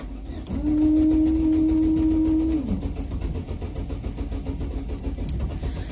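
A Chevrolet Celta fitted with an aftermarket Turbal exhaust cranks and catches, its steady engine tone holding for about two seconds before dropping back to a rougher, lower idle, close to the microphone with no talk.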